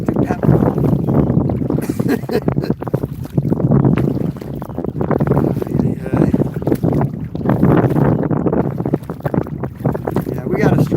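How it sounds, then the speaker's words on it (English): Strong headwind buffets the microphone on a river while kayaking upstream against the current, a loud continuous rumbling roar with gusty surges and water noise throughout, with a voice faintly talking beneath. "we got a strong wind right in our face, and we're going up current"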